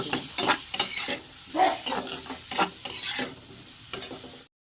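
A spoon stirs crab curry with potato and pumpkin in a pan after cumin powder goes in, giving repeated scraping, swishing strokes over a low sizzle, close and fairly loud, with no talking.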